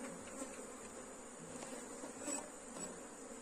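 Apis honeybees buzz around a hive box during a colony split, a soft, steady hum of many insects with individual bees droning past now and then.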